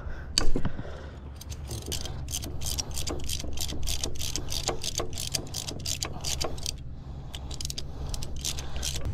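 A ratchet wrench loosens 10mm bolts on the alternator of an Acura RSX, producing a rapid, steady series of clicks close by after an initial clunk, with a low hum underneath and no voices.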